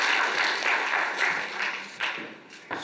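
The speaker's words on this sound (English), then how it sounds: "Give him a round of applause here." A workshop audience gives a steady round of applause for a volunteer called up on stage, a dense crackle of many hands with a few sharper claps standing out near the end.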